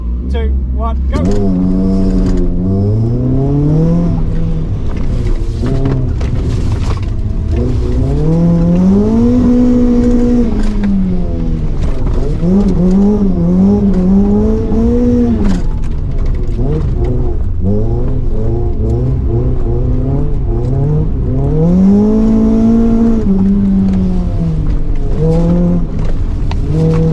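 A Honda CRX 1.6 i16 runs a handling course at Santa Pod, its engine note loud and steady throughout, rising and falling in pitch as it accelerates and lifts through the turns.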